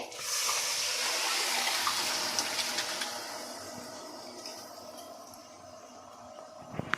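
Water poured onto rice in a cooking pot: a loud, close, hissing gush that streams steadily for a few seconds, then tapers into softer trickling and a few small clinks, with no voice heard.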